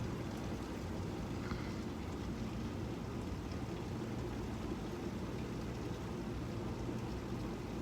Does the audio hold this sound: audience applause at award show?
no